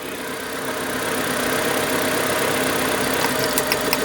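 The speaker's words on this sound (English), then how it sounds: "So you see how much the revs drop on each cylinder." A Proton Satria's engine idles steadily during a power balance test for a misfire and low compression, a continuous mid-pitched rumble at close range with faint ticking near the end.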